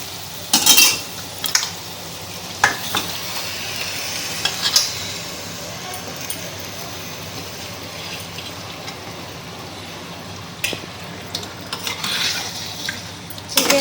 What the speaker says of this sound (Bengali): এইবার আমরা এর সঙ্গে চিকেনটা অ্যাড করে দেবো।